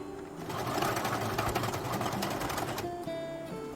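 A sewing machine stitches a blouse sleeve in a steady, close, loud whir of fast needle strokes. It slows and winds down near the end.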